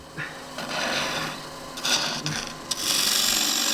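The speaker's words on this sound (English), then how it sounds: "it's taking off shavings rather than dust" A hand tool rasps along a piece of wood, peeling off long shavings in several close, loud, uneven scraping strokes, the last one long and sustained, with no talk.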